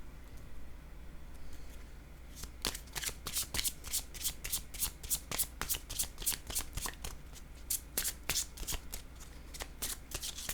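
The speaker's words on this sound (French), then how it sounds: "je vais déposer une autre carte ici" Playing cards being shuffled and handled on a table, a quick run of crisp riffling flicks and snaps that goes on steadily over a low background hum, with no talking.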